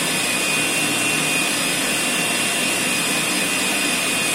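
Electric stand mixer beating sponge cake batter, a loud constant whirring motor whine with a thin steady high tone, unbroken and close the whole time.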